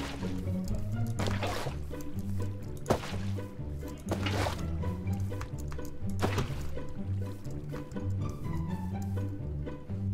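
Water gurgles and splashes as buckets are emptied to fill a pool in Minecraft, repeated sloshing pours over a steady rhythmic music bed, with no talking.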